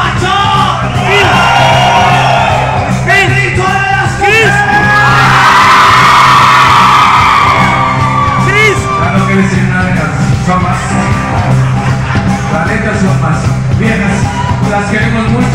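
A party crowd yells a loud group shout, the 'grito de los machos', with whoops and overlapping voices that rise to a sustained peak in the middle, over dense, constant background noise.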